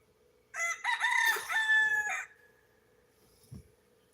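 A single loud rooster crow rises and holds for about two seconds, then fades, followed by a brief soft knock and a steady faint hum.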